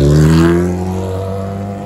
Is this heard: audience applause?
no